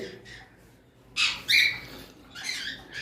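Pet lovebirds, one blue and one rosy, giving a few sharp, shrill squawks in short bursts close by, with quiet gaps between the calls.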